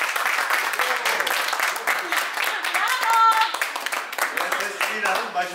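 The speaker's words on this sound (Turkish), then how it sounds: "Tekrar bir kez daha alkışlayalım şöyle." An audience applauds a young skater being awarded a medal, scattered claps running under a voice that speaks throughout, with a brief tonal sound partway through.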